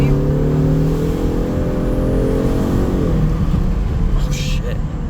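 A 2025 Ford Mustang accelerates on roads in Puerto Rico, its engine giving a loud, close, rising drone from inside the car.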